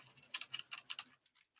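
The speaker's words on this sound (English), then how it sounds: "I can't type today" A computer keyboard typed on in a quick cluster of crisp, close key clicks, followed by a few sparse, fainter taps before it falls quiet.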